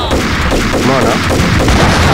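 Dense rapid gunfire from a Max Payne shooter game on PS4, loud and continuous bursts with booming shots filling the whole stretch, no voice on top.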